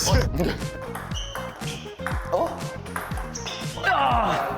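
A ping-pong ball clicks and bounces on a table during a playful match, with repeated sharp taps spread through the clip under lively talk from several people.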